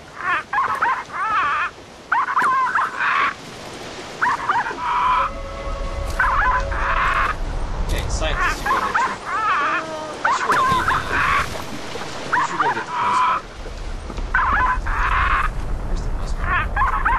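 A dog in the video game The Cave barks in repeated short bursts alongside clucking chickens, the barks coming in uneven clusters while someone talks over and between them.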